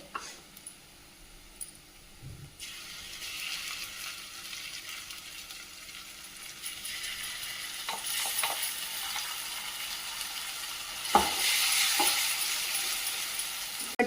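Onion sizzles steadily in a pan for an everyday cauliflower curry, then a garlic-ginger paste is dropped in near the end and the hiss surges louder and brighter, with occasional stirring scrapes.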